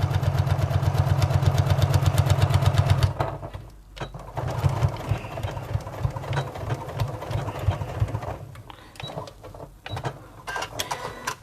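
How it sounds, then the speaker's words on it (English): A sewing machine stitches two lines on a Wesley tote bag, running in a fast, steady rhythmic whir for about three seconds, then stopping; softer handling noises and fainter mechanical sounds follow, with no talking. "I'm just going to sew down those two lines"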